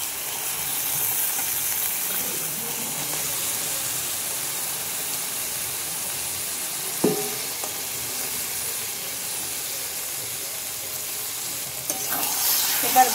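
Duck meat frying with masala in a pan, a steady hissing sizzle with occasional soft stirring knocks, near and moderately loud, no talk.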